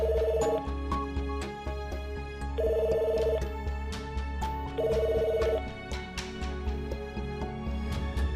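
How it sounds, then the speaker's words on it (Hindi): A telephone rings unanswered in a drama scene, three repeated bell bursts spaced a couple of seconds apart over steady low background music, fairly loud and with no voices. "सर बेल तो जा रही है लेकिन एनी फ़ोन नहीं पिक कर रही।"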